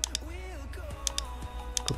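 Keys click on a computer keyboard in quick, scattered taps, some louder strikes standing out over a low hum and faint background tones. No voice is heard.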